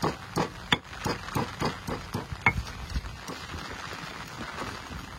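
Spices worked in a traditional hand grinder for ikan arsik: a run of about a dozen rhythmic knocking thuds, close and fairly loud, thinning out toward the end, with no voices.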